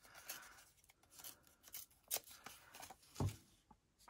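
A piece of scrap paper from a scrap box is torn by hand in a few quick, close ripping strokes with soft rustling between them, faint and without speech.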